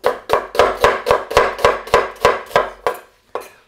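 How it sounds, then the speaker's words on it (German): A knife cuts an onion into strips on a board in about a dozen quick, evenly spaced chops that thud close and crisp, then a couple of slower final cuts. "Die Zwiebel können wir einfach in Streifen schneiden."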